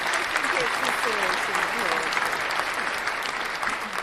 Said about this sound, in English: Let's get an applause for that.